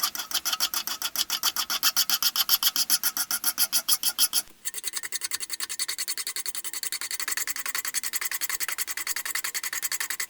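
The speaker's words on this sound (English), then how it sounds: "To sharpen the knife, I'm simply using a hand file." Rhythmic back-and-forth rasping of a hand file sharpening a scythe knife, close and steady with regular strokes, briefly pausing midway before continuing at a quicker pace.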